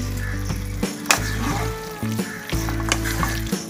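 Taro greens and stems sautéing in a pan give a steady low frying sizzle, with intermittent scraping clatters as a spoon stirs them every second or so.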